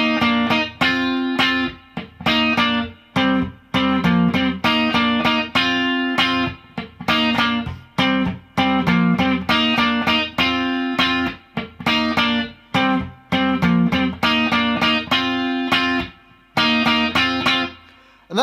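Distorted electric guitar plays the second verse of a song, loud and up close in punchy rhythmic chord stabs with short gaps between phrases.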